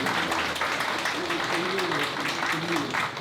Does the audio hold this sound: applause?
yes